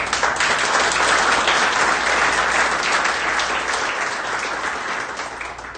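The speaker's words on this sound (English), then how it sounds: "That deserves a round of applause." An audience at a clean energy event with a congressman in Pennsylvania breaks into sustained, loud applause, dense and even throughout, easing slightly toward the end.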